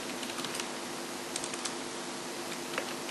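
Typing on a computer keyboard while entering website addresses, a rapid run of light, close key clicks over a constant background hiss, with no talking.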